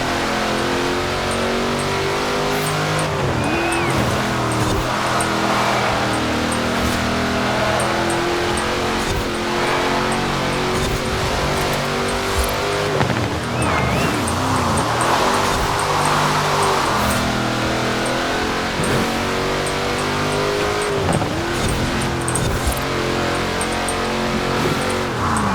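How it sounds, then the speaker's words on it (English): A Ferrari race car engine roars continuously in Forza Horizon 4, revving up and down through corners with tyres sliding, loud and close throughout with no talking. "Sliding around these last few corners, but into first place with the Ferrari right on my heels"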